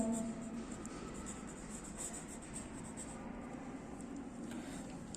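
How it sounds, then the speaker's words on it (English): Pen writing on paper during a third-grade maths lesson, a faint continuous scratching and rubbing over quiet room noise, with no voice heard. "So we have to write down here"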